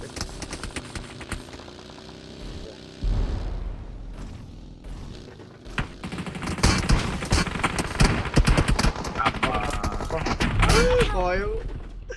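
Rapid bursts of automatic gunfire in a PUBG Mobile tournament match, crackling in stretches with a deep thud partway through, while players talk over voice chat.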